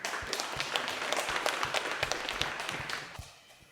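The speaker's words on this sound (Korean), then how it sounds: "우리 감사하는 마음을 담아 박수 한번 하시죠" Sunday worship congregation at a church claps steadily for several seconds, a fairly soft patter of many hands that thins out and fades at the end.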